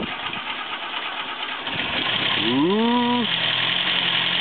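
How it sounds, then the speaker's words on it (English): A 1934 Morris 10 convertible engine, left unused for a couple of weeks, cranks and catches. It rises in a quick rev, then settles into a steady, close idle. "See how well it starts now after being sitting around for a couple of weeks."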